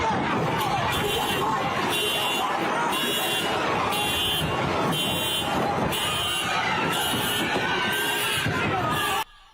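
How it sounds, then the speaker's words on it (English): Several car alarms blare at once amid a riot where cars are being smashed, with repeating pulsed tones over dense crowd noise and metallic banging, loud and continuous throughout. "Those are car alarms, as they are destroying hundreds of thousands of dollars worth of damage"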